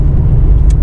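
Mazda RX-8 with a rotary Wankel engine, running steadily at idle or low speed as a close, dense low rumble that holds even throughout.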